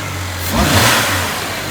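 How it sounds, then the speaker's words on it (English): A BMW 335i turbo engine revs up close and loud, with a brief whooshing hiss from the blow-off valve as the revs rise and fall over a couple of seconds. "That was the blow-off valve."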